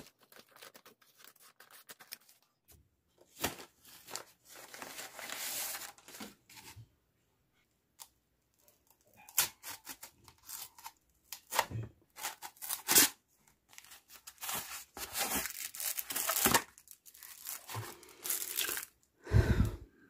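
Plastic packaging around a multifunction gadget pen being cut open, heard as scattered close snips, crinkles and tearing rustles in irregular bursts separated by quiet gaps, with no speech.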